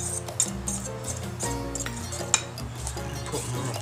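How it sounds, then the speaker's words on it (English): Seasonings are stirred into a sauce mixture for a shrimp po boy remoulade, producing close, repeated clinks and scrapes of a utensil against a bowl with a couple of sharper taps over a low background hum. "So I'm gonna stir that really well. Mix it in really good."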